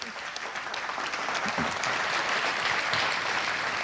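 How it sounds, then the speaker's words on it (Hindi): A crowd at a Hindi poetry gathering claps loudly and continuously to welcome a poet, dense applause filling the whole stretch without a break. "आप एक बार जोरदार तालियां बजाकर उनका स्वागत करें,"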